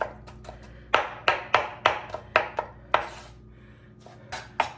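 A knife chopping ingredients for potato salad on a board, about ten sharp, close knocks in an uneven rhythm with a short pause, and no talking.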